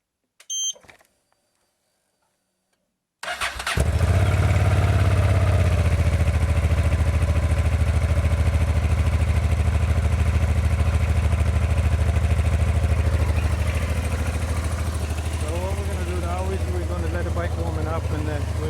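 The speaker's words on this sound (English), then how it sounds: "But first we turn on the bike." A Honda Transalp 700 motorcycle starts after a couple of faint clicks, then its engine settles into a steady, loud idle that runs close up and uninterrupted to the end.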